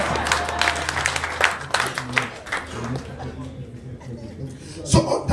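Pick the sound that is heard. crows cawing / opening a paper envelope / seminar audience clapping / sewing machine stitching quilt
seminar audience clapping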